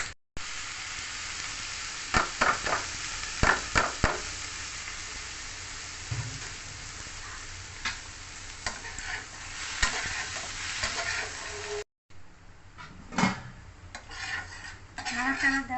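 Pasta cooking in a pan at home is stirred with a utensil, a steady close sizzle broken by repeated scraping and clinking strokes, with brief quiet speech in the background.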